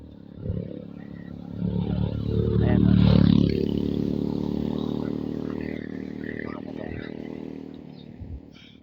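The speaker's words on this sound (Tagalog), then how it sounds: "Puro motor lang dumadaan dito mga katribo." Motorcycles pass along a mountain road, a steady engine drone swelling to a peak near the middle and then slowly fading, with voices talking over it.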